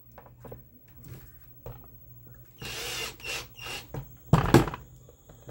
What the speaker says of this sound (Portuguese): Vou parafusar aqui, ó.